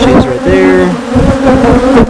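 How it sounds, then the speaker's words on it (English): Honeybees buzzing loudly around an opened hive during beekeeping without smoke, a dense close-up drone with individual bees whining past the microphone. "As you can see, the bees do not like the camera."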